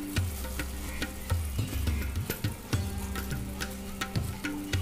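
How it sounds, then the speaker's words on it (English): A pot of water with cinnamon and ginger boils hard for tea, giving a steady bubbling and rattling churn with frequent small pops, close and continuous. "the water has started boiling very nicely to a strong boil"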